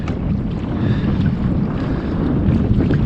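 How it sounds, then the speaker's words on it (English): A stiff south wind blowing over Lake Monticello while crappie fishing from a boat, a loud continuous low rumble of wind buffeting the microphone, with a faint hollow wash of water. "Wind's pretty stiff coming down through that south."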